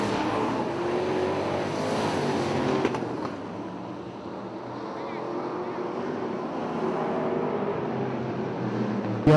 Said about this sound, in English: We've got a 5-car race here